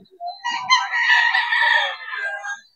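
Young gamefowl stags, including kanawayon and Cuban Grey birds, crowing in one long, loud, close call that rises and trails off, with no talk over it.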